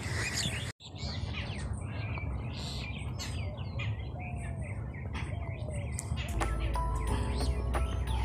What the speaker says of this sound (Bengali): সাথে এদিক ওদিক অনবরত ডেকে চলেছে বিভিন্ন পাখি